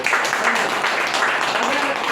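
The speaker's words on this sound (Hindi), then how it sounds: "उन दोनों सर के लिए एक जोरदार ताली।" Audience at a company seminar giving a round of applause, steady dense clapping throughout, moderately loud with a voice faintly mixed in.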